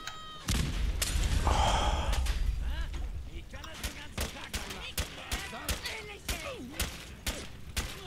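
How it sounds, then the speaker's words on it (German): Gunfire in the game Fallout 4: a burst of shots near the start followed by a string of sharp, scattered single reports, with someone talking over the action. "Ein paar gezielte Schüsse, dann ist er fatt."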